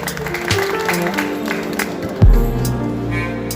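Applause from a crowd at a teacher's retirement function in Delhi, a loose scattered clapping heard under a busy hall with overlapping voices and a loud thump partway through.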